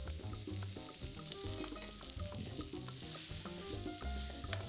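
Garlic fries in a pan with a low continuous sizzle, soft crackles and occasional stirring taps, fairly faint and steady throughout with music-like tones in the background.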